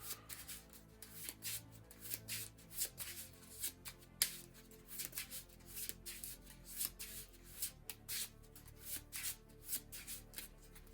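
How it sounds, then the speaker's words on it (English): Playing cards from a Marvel Legendary deck-building board game are shuffled at a table, repeated soft riffling bursts and rubbing swishes in an irregular rhythm, quiet and close with no talk. "Need to shuffle."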